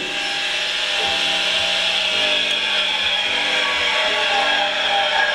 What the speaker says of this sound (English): this can cut heavy bamboos within seconds